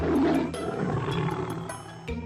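A lioness gives a soft, low roar, a rumbling, sustained growl that swells at the start and then trails off in a few quieter breathy pulses.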